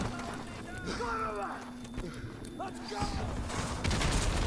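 Gunfire in the video game Call of Duty Modern Warfare 2, bursts of rapid shots mixed with game noise and movement while someone talks over it.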